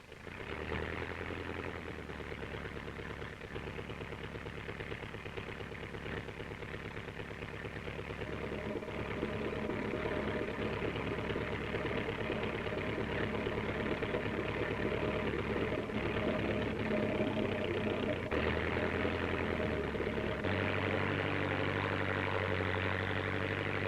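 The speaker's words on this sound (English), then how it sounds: "Small aeroplanes fitted for top dressing are familiar sights in back paddocks." A steady droning small top-dressing aeroplane engine hums continuously, growing a little louder after the opening seconds, with a low steady pitch and no talk.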